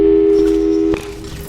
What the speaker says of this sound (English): Tell you what, let's give your parents a call right now.